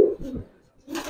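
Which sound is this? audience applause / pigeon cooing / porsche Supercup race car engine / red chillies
pigeon cooing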